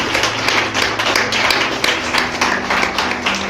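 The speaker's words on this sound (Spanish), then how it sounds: "¿Le puede dar un aplauso al Señor Jesús?" A church congregation claps together in quick, repeated bursts, loud and close, with a faint musical tone running underneath.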